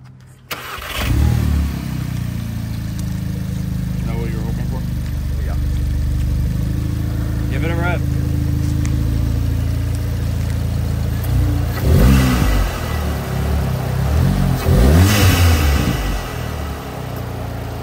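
An Audi S3 fitted with a Luft-Technik air intake starts up with a loud, close engine note and settles into a steady idle. Throttle blips follow, with a couple of sharp revs near the end, while a person talks over part of it.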